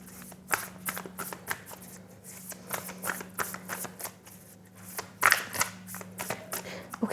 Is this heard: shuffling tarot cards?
yes